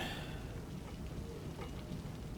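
Steady rain patter in a city-building video game fills the scene, a constant hiss with soft low rumbling underneath and no talking.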